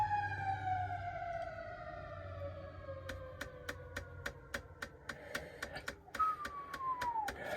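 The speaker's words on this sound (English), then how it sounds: "Hear that siren?" A siren wails in a long, slow falling sweep, then rises again, while sharp rhythmic clicks tap over it at a moderate distance.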